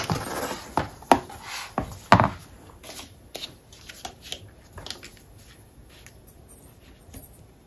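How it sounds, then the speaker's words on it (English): A straight craft blade trims paper for an explosion-box mini album: a series of short, crisp scraping cuts, sharper and louder at first, then lighter and fainter, heard up close with no talking. "I'm just going to trim that off with a blade"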